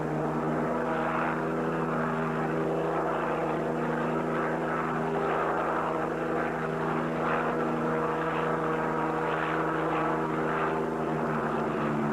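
A Highway Patrol helicopter flies low over open desert, its steady rotor and engine drone loud and continuous throughout with faint rhythmic blade beating, and no voices.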